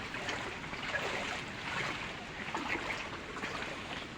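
A strong floodwater river rushes past in a continuous, loud, broadband roar that holds steady throughout with no break.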